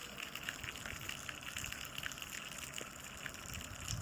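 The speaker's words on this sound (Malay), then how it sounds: "Kita masukkan air panas, dia terus berpusing." Faint swirling, gushing water as hot water spins inside an auto-stirring magnetic mug, a steady quiet churn with a soft motor-like hum throughout.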